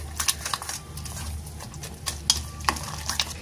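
Chilli powder, salt and pepper being mixed by hand for Jaffna coconut sambal, a soft uneven rubbing and scraping with scattered light taps, close and fairly quiet, with no talk.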